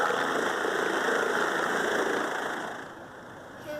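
A helicopter engine runs with a steady, close mechanical drone and hum that holds evenly, then eases off and fades somewhat near the end.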